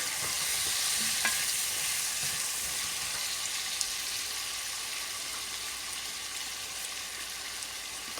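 Turmeric and salt are stirred in a hot pan for a pumpkin vegetable dish, giving a steady hissing sizzle with faint scraping, even and close, with no talking.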